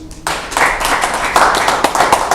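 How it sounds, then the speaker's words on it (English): Audience clapping at a church-style open-microphone gathering, starting abruptly after a brief pause and continuing as a loud, dense patter of many hands close by. "Clap for them"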